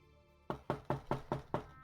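Knocking at an inn's entrance door, six evenly spaced raps in quick succession, fairly close and clear after a short quiet lead-in.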